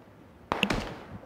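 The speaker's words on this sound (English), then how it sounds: "Oh, they're super shooting south of us." A single short burst of distant gunfire in the PUBG battle royale game cracks once and then fades out quickly.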